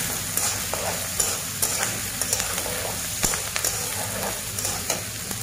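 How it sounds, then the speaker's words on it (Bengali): Liver fries with ginger and garlic in a pan. A close, continuous sizzle carries a string of light stirring taps and scrapes throughout. "আদা, রসুন, এগুলো দিয়ে আমরা এটা একটু ফ্রাই করে নেব।"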